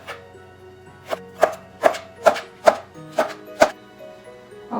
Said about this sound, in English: And now I'm going to cut my vegetables. Okay, I prefer cutting it lengthwise.